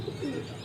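Soft, low cooing from a young Fulsara pigeon, a steady murmuring coo close by with no talk over it.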